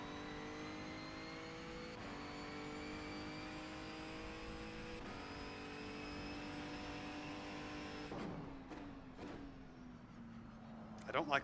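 A Renault Megane Trophy race car in rFactor2 holds a steady engine drone with clear harmonic tones, shifting through gear changes and then dropping pitch under braking, with brief tyre squeals near the end.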